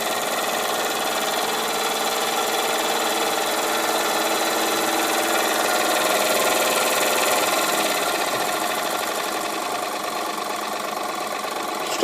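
A Wilesco D455 toy steam engine, recently repaired, runs on compressed air with a steady, fast mechanical chatter and hiss that holds at an even level throughout, close and continuous with no talk.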